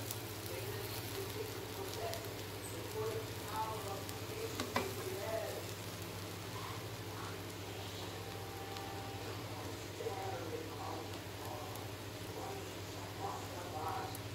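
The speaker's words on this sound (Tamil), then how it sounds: "அப்படியே மிக்ஸ் பண்ணி விடுங்க." Egg mushroom biryani with fluffy basmati rice being stirred and mixed in a hot pan, a steady soft sizzle with light scraping and stirring strokes throughout, close and moderately quiet.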